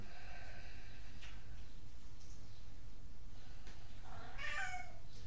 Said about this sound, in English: Almost made it a full class without a cat coming in.